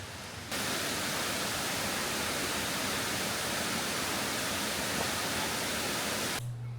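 Waterfall near a mountain village outside Chiang Mai, Thailand, gives a dense, even roar of falling water that fills the scene at steady loudness from start to finish, with no voices.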